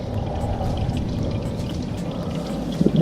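Manual transmission fluid draining from a 9th-generation Honda Civic Si, a steady close pouring trickle of oil running continuously into a container, with a couple of faint knocks near the end.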